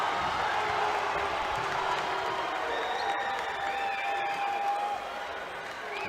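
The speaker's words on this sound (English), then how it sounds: "The crowd clad in blue continues to get louder" Crowd in blue cheering and clapping at a 2021 Division 1 regional final volleyball match in a gym, a sustained moderate roar with occasional whistles, heard under an announcer's commentary.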